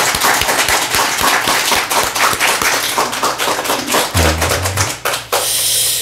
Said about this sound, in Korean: 우리 성가대를 위해서 격려의 박수 한번 부탁드립니다